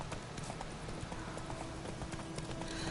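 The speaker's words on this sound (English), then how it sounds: "He's gonna ride the horse while he's gonna make the dude walk." Horse hooves clip-clop at a steady walking pace in The Witcher video game, fairly close and even, set against a continuous ambient wash with no talk.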